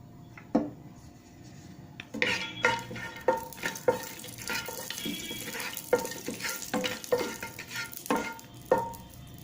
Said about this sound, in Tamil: நெய் ஊற்றிட்டு இந்த முந்திரியெல்லாம் வறுத்துக்கலாம்